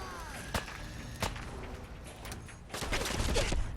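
A Tesla rifle fires in Fallout 4, sharp crackling electric shots snapping out a few times at irregular intervals over low game ambience, ending in a denser burst.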